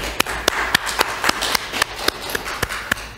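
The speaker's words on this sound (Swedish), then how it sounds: "Så vi kan tacka Peter med en applåd här, Fred." A church congregation in Stockholm claps in applause, the claps sparse and distinct in an uneven rhythm, fairly close and without speech.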